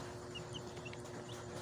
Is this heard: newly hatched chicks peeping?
yes